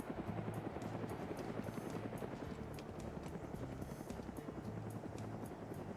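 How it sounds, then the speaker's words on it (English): A helicopter in an online PvP military game circles overhead with a steady, pulsing rotor chop throughout, moderately loud and fairly close, with no talk over it. "that's their helicopter. I was trying to track that noise"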